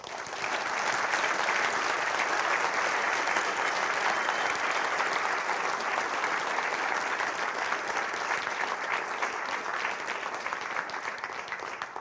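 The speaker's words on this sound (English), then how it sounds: "let's give all of the organizers a big round of applause" Sustained applause from a conference keynote audience at a free software event, steady dense clapping filling the hall for the full stretch without letup.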